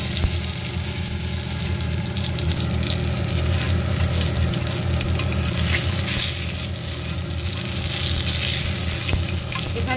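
Nigella seeds (kalo jeere) dropped into hot oil for tempering, a loud, steady, close sizzle and crackle that runs without a break.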